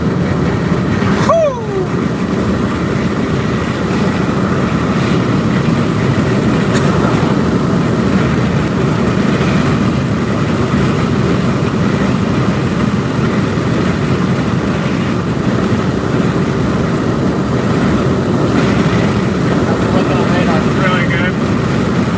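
A storm chase vehicle's engine drones steadily and loudly under continuous road and wind noise during a tornado outbreak in Mississippi, with no clear separate acceleration surge.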